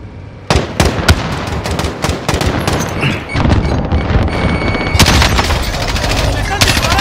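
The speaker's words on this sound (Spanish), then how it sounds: "¡Me están disparando!" Heavy gunfire in the video game Call of Duty: Warzone: loud, sharp shots and rapid bursts crack repeatedly, building into near-continuous fire in the second half.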